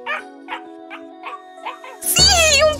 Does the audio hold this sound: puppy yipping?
yes